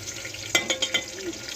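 Onions sauté in a pan, a soft sizzle of frying under a few quick scraping stirs of a spoon close by, with a faint voice briefly present.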